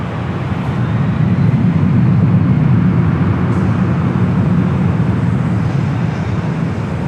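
Airliner taking off from runway 24 left at LAX, a steady, loud engine roar heard from a distance with broad low rumble, holding constant throughout.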